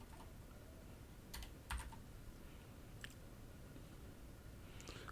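A keyboard shortcut typed on a computer keyboard, a few quick, faint key clicks in a short cluster followed by a couple of isolated taps against a quiet background hum.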